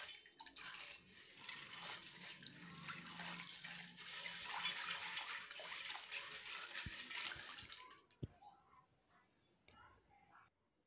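Kabuli chickpeas being washed in water, a continuous close splashing and swishing for about eight seconds that stops abruptly, followed by a single knock and faint quiet room sound.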